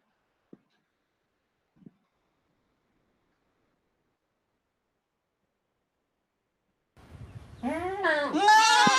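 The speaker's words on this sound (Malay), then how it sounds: "Manakala bunyi kambing." After two faint clicks and a long silence, a goat bleats loudly and close, a wavering cry filling the final seconds.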